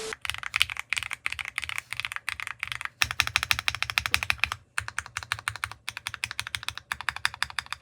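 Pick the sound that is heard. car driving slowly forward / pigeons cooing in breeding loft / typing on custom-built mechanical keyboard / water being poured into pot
typing on custom-built mechanical keyboard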